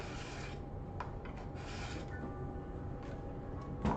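A craft knife blade is rubbed back and forth on a sharpener to clear burrs, producing a steady, soft, close rasping scrape that runs nearly without pause.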